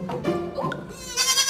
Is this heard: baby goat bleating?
yes